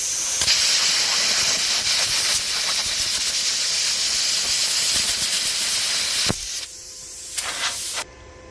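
A CUT50 plasma cutter cuts metal with a loud, close, continuous hiss and crackle that runs steadily for over six seconds, then drops to quieter intermittent hissing before cutting off.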